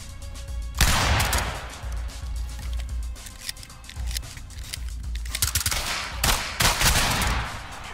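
Rapid gunfire crackles through a law enforcement video game, with a loud burst followed by dense, irregular volleys of shots and clattering impacts over several seconds, close and sustained, with no talking.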